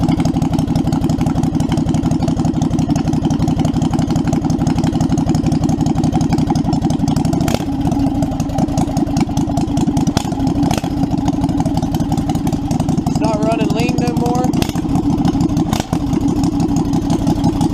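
A Predator 670 small V-twin engine idles steadily after a stock carburetor repair, a loud, continuous low rumble with an even beat and brief uneven pulses partway through.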